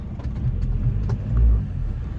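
A car engine idling while warming up on a cold day, a low steady rumble close by that swells briefly before settling, with no talk.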